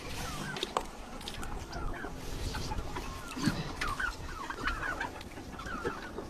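Several young chickens cluck and chirp nearby in a busy, overlapping chorus inside their enclosure, with soft rustling and a brief low sound underneath.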